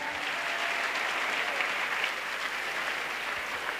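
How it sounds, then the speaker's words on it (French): Steady, dense applause from a large crowd at an evangelistic crusade, loud and continuous throughout without pause. "Acclamation."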